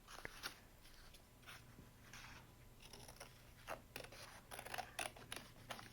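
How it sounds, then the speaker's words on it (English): Faint, quiet snips of scissors cutting out paper rose petals, a series of short crisp cuts scattered irregularly across the clip, growing slightly busier toward the end. "she's cutting them out. And then she'll cut around those petals"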